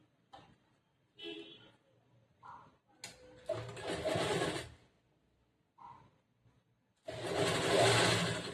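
A sewing machine stitching a blouse star neck runs in two loud bursts, one of about a second and a half and another of a similar length at the end, separated by quieter handling noises and brief gaps.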